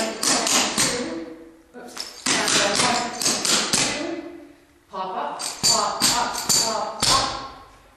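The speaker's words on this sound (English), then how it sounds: "You're gonna pop your toes together and tap them." Clogging shoes tap sharply on a hard floor in quick bursts of four, crisp close clicks grouped in runs with short pauses between, while a voice speaks over the practice.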